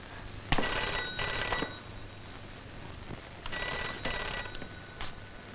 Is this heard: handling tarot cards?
no